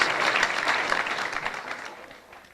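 Spectators at the Embassy World Pool Championship final clap in a dense, steady burst of applause that gradually fades away over a couple of seconds.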